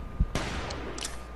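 A hunting rifle fires in the Hunting Simulator 2 video game on PS4 while stalking deer: a soft thump, then one sharp, loud shot whose report rings out and decays over the next second.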